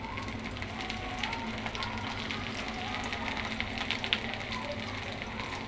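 Chilli paste fries in mustard oil in a pan, a steady close sizzle and crackle that holds throughout with occasional sharper pops and no voices.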